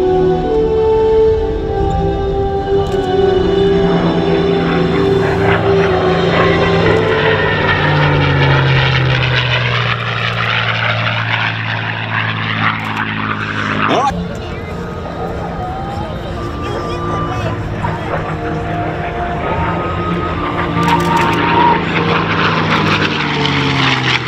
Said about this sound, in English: Quicksilver, the P-51.